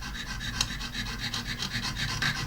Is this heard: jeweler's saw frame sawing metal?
yes